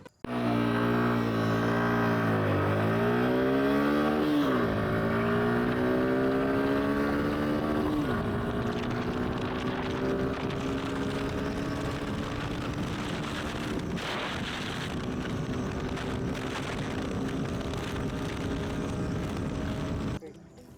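A Suzuki Gixxer SF 155 motorcycle engine revs loud and close, its pitch climbing in stepped sweeps through the first eight seconds, then holding a steady high drone until it cuts off near the end, with wind noise throughout.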